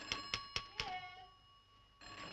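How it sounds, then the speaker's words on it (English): Four sharp bell-like rings in quick succession, clear and close, followed by a fading electronic hum and a brief resumed tone. "The telephone's ringing"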